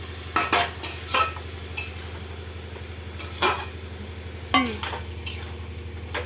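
A spoon stirs spinach in a pan with repeated scraping strokes in an uneven rhythm, up close, over a faint sizzle and steady low hum.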